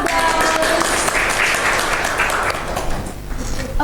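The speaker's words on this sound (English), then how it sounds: "Give an applause." A classroom audience applauds after a microteaching practice session, steady clapping from a group that holds strong for a few seconds before tapering off.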